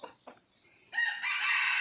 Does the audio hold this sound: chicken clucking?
yes